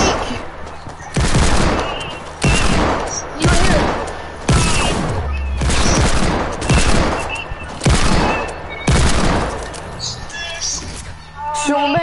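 Rapid bursts of automatic gunfire in the video game Fortnite crackle loudly in repeated volleys, with a player talking excitedly over the shooting.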